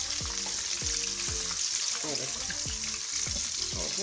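Mutton frying in ghee crackles in a steady, close sizzle, broken by rhythmic scraping strokes of a spoon turning the meat every half second or so.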